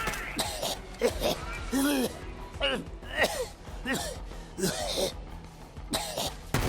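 Harsh, wet coughing fits and throat clearing from Zane in Borderlands 3, coughing up blood, repeated several times over steady background game sounds.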